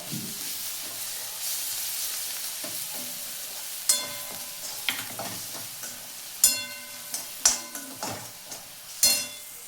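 Onion and ginger-garlic paste fry in a pan for a village-style sandge bhaji, a low steady sizzle broken by several sharp spatula scrapes and taps that grow busier toward the end, with no talking.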